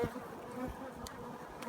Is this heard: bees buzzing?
yes